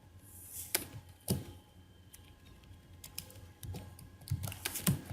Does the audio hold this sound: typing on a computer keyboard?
yes